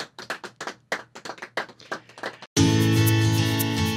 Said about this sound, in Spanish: Un aplauso para Horacio Lutini